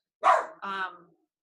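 A dog barks twice in quick succession, fairly close, a sharp bark followed by a slightly longer, tonal one, with silence around them.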